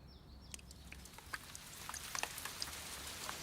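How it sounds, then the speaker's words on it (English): Rain falls in the Amazon jungle as a soft, steady patter with scattered drops and faint bird chirps, heard quietly with no voices. "It's raining, Charlie."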